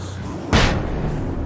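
A flashbang going off in the Alan Wake video game, one sharp loud bang followed by a short decaying rumble, set against quiet ambience.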